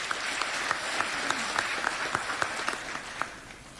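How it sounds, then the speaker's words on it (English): Applause at a formal AMECEA plenary assembly ceremony welcoming the President's representative, with broad steady crowd clapping and a few sharper individual claps standing out throughout. "Let's welcome him with an applause."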